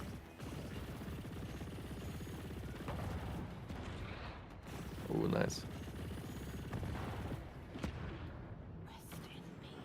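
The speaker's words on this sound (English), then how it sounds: "I'm loving those explosions." Explosions in the space-shooter game Chorus burst under steady game noise and ongoing conversation, with one louder, brighter blast near the middle and smaller booms scattered around it.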